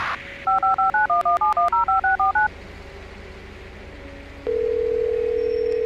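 Telephone keypad tones in GTA 5, about a dozen quick dialing beeps in a steady run, followed after a pause by a continuous dial tone, all loud and clear with no talking.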